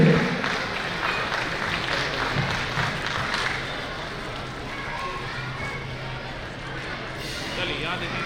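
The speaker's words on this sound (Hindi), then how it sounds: "आपकी जोरदार तालियां चाहूंगा" Continuous clapping from a large audience at a Meena community gathering, a dense, steady wash of applause with faint voices mixed in.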